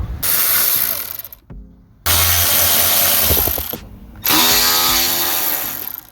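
Power tool driving out Torx 25 screws from a quarter cover on a 2010 Vauxhall Corsa, loud close whirring ratchet bursts in three runs separated by short pauses, with no voices.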